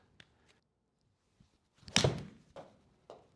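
A golf ball is struck with a Mizuno iron, a Mizuno Pro 225 or JPX 923 Hot Metal Pro, as a high shot on a range: one solid, close impact thunk, followed by a few fainter knocks.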